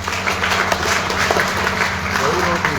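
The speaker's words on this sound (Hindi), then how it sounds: "ताली बजाओ सब।" Audience at a children's cultural and religious training camp breaks into a short burst of applause, scattered claps over crowd murmur.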